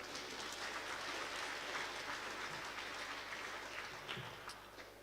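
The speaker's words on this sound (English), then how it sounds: "Give her a clap." Crowd applause at a graduation ceremony, a dense, even wash of clapping that holds steady and then tapers off near the end.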